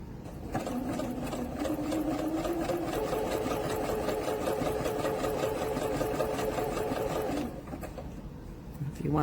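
A Singer Quantum Stylist 9960 computerized portable sewing machine runs a steady straight stitch, its fast even motor hum and needle clatter close and constant for about seven seconds before it stops and the handwheel clicks.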